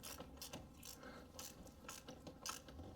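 A ratchet wrench tightens a battery cable on a 2017 Toyota Sienna with repeated quick clicking bursts in an irregular rhythm, close and fairly quiet.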